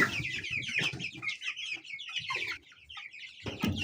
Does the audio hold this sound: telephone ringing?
no